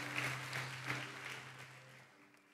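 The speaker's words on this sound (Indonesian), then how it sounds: "Tepuk tangan boleh lebih daripada itu." Faint applause from a church congregation, a soft, diffuse patter of hands with a steady tonal hum beneath it that tapers off after a couple of seconds.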